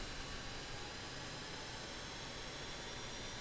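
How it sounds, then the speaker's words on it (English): A BAE 146 whisper jet's engines heard from outside in Microsoft Flight Simulator: a steady, broad, faint roaring hiss that holds constant throughout with no variation. "Sounds from the outside, the whisper jet."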